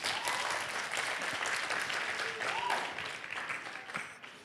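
Applause for a program director at a South African school drug-awareness event, a full, dense round of clapping from a large audience, loud and even before tapering slightly toward the end.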